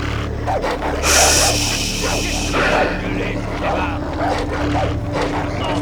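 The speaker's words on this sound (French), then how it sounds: "Des chiens." Dogs bark and yip in short bursts in the video game Far Cry 3 over a steady engine-like hum, with a person talking over them.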